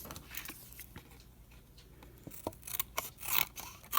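Scissors snip through paper to trim a small viewing window for a journal, giving a string of short crisp cuts and rustles, close and fairly quiet with no talking.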